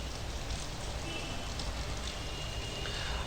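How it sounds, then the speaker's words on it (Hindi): Heavy rain pours steadily during floods in Mandsaur, Madhya Pradesh, a dense, continuous hiss of water falling close by with no break and no talking. "लेकिन अभी भी बारिश हो रही है"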